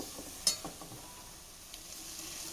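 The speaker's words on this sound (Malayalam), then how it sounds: "നല്ലപോലെ നമുക്ക് ഇതിന് വഴറ്റിയെടുക്കാം" Kerala-style chickpea masala sautés in a pan, a faint steady sizzle with a few soft clicks and scrapes from stirring.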